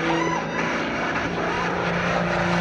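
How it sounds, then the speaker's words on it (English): An aerobatic airplane at an airshow pulls heavy G's and turns completely around, its engine a loud, steady drone with a sustained tonal whine. "he pulls heavy G's again and turns the airplane completely around"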